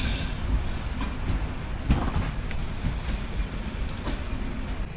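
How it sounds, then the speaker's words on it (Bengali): The Intercity Chitra Express, a long ten-car train, rumbles at Chuadanga station at night with a steady rolling clatter and a few sharp wheel clicks, moderately loud and continuous, with no voices. "আমাদের আজকের আন্তনগর চিত্রা এক্সপ্রেস ট্রেনটিও বেশ বড়"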